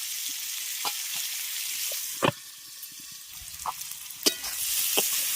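Ivy gourd frying in a pan until reddish and soft: a steady, close sizzling hiss runs throughout, with a few sharp clicks and scrapes as it is stirred. No one speaks.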